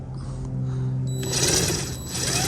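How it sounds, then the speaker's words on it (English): A DeWalt impact driver removing the door panel bolts on a 2021 Chevy: a loud, continuous mechanical whir and hammering rattle whose pitch climbs partway through, close and without talk. "This is where your DeWalt impact comes into play here."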